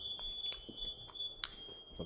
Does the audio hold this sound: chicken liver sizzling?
no